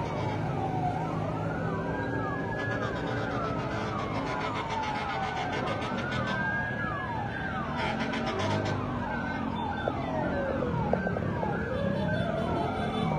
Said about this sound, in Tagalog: Ayun na, may bumbero na palating.